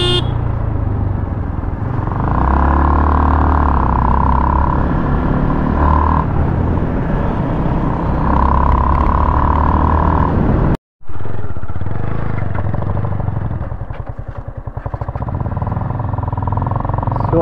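A Yamaha MT15 motorcycle engine drones steadily while being ridden, with a loud, continuous low rumble that cuts out abruptly for a moment before resuming.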